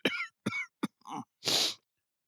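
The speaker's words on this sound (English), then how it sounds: "He breaks into a fit of unromantic coughing" A man breaks into a short fit of harsh coughs, five in quick succession, close and loud, ending with a final raspy hack.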